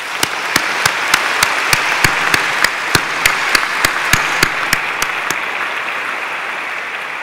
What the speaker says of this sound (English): I'd like for us all to give a round of applause here now for our volunteers.